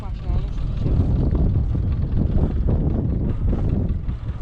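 Blustery wind on the hills of Buzău, Romania, buffets the microphone in low, rumbling gusts, loud and continuous throughout.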